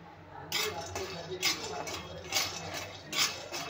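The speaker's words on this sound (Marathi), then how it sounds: "तर इथे मी शेंगदाणे भाजून घेते।" Peanuts dry roasting in a pan are stirred with a metal utensil, giving rhythmic scraping and clinking strokes about once a second under a quiet background.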